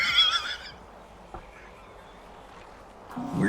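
A horse whinnies briefly as a sound effect, a short high neigh at the start, then near silence with a soft thump, and another burst of whinnying rising at the end.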